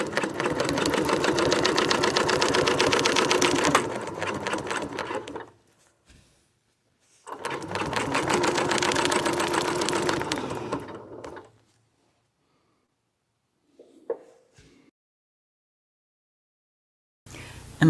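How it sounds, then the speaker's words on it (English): Sewing machine stitching a quilt runs loud and close in two long bursts of rapid mechanical chatter, each several seconds, with quiet pauses between and a few faint handling clicks afterward. "And my stitching goes right into the corner."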